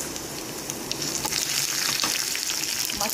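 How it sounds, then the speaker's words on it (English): Mustard seeds and red chilies sizzle in hot oil with browning garlic for a South Indian mango dal, a loud, continuous crackling fry with small spits and pops close by. "Now when our garlic is turning brown, we can add red chilies and mustard"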